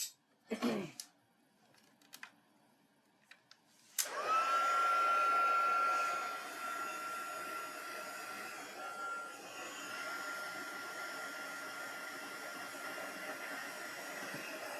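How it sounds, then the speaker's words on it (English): A heat tool drying a handmade gingerbread card starts after a few soft handling clicks, then a loud, steady blowing whoosh runs close and continuous to the end. "And then we're going to add some heat."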